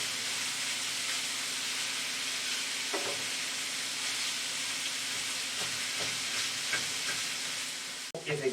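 Beef marinated with Asian ingredients fries in oil in a pan, a steady broad hiss of sizzling with a few soft scrapes as the meat is broken up and stirred, close and continuous.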